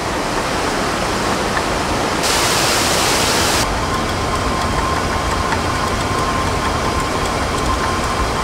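Water rushes loudly and continuously beside water mills on the Tila river bank, a dense unbroken roar that briefly grows brighter and harsher for a second or so midway, with no voices.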